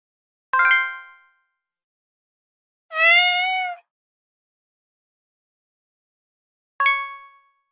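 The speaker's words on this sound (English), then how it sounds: "This is Kitty the cat." A cartoon cat in a children's story gives a single drawn-out meow, set between two bright, ringing chime dings with clean silence around each sound.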